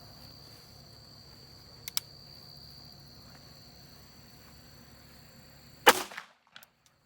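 A single sharp, loud gunshot from a Federal HST 124 grain round cracks out near the end against a steady background of chirping crickets, with a faint click heard earlier.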